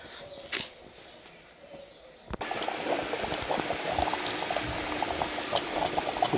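Green chickpea curry gravy bubbles and simmers in a pot on a home kitchen stove, a brief faint stir at first, then a sudden steady loud seething boil for the rest.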